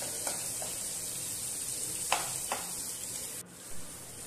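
Potatoes and onions frying in a pan for a small fish curry, giving a steady soft sizzle with a few sharp clicks of stirring, close and moderately quiet, no talking.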